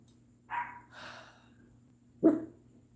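A dog barks indoors: two quick barks close together, then a sharper single bark after a short pause, with no talking.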